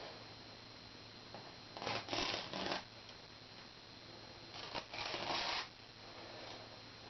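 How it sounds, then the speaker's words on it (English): Tape peeling off the corner of a painted canvas frame, two soft ripping strips, each pulled in short tearing bursts against a quiet background hiss. "just want to pull the corner tape off first"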